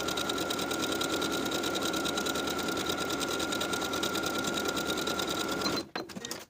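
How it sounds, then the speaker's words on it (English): A sewing machine stitches steadily around a shirt sleeve about 3/8 inch from the raw edge, running as one continuous, even whir for nearly six seconds before it stops abruptly. "I'm going to sew all the way around about 3/8 of an inch away from the raw edge around both sleeves"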